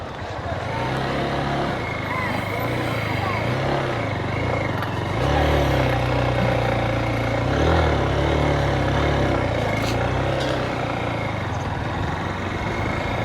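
On Kuakata sea beach, a motorcycle engine drones low and steady as the bike is moved down onto the sand, rising and falling slightly, with people talking around it.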